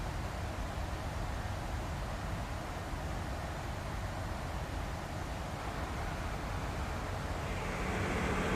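Airplane cabin sound from a white noise app, a steady, dense broadband hiss and rumble like jet engines and cabin air, unchanging and continuous with no talking.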